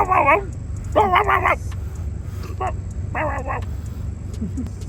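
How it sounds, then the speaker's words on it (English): A dog tries to bark with a teddy bear in its mouth, giving muffled, strained yips and whimpering barks in short bursts over a steady low engine hum in a garage. "That dog's trying to bark with a teddy bear in his mouth."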